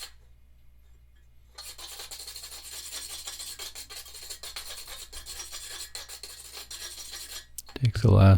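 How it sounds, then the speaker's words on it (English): A finer wire brush scrubs the last scale off forge-welded iron brake rod ends in a quick, steady rasping rhythm that is close and moderately loud, followed by a knock at the end. "Take the last little scale off, go to a little finer brush here."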